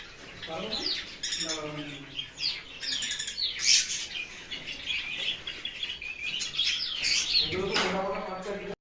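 A pair of lovebirds at a seller's cage chirp and squawk in quick, bright bursts close by, with people talking in the background.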